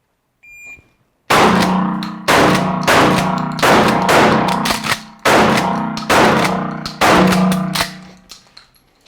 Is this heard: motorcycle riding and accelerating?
no